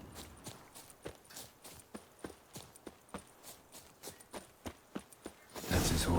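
Steady horse hoof clip-clops in The Witcher 3: Wild Hunt, an even walking rhythm, about two per second, fairly close, ending in a sudden burst of broadband noise.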